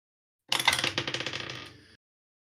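Dice tumbling and clattering across a table during a tabletop roleplaying game, one rapid rattling roll of about a second and a half that starts sharp and loud, then fades as the dice settle.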